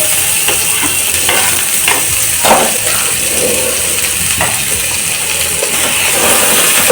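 Chopped onion and green chili frying in a hot pan, a steady loud sizzle with occasional stirring scrapes and clinks throughout, no talking.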